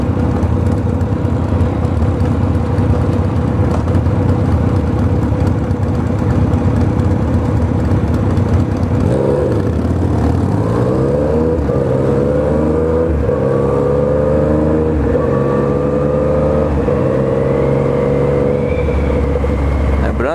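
A vehicle's exhaust roars loudly on a Los Angeles street, a steady low rumble for several seconds before the engine revs up in rising, repeated surges that stay loud to the end.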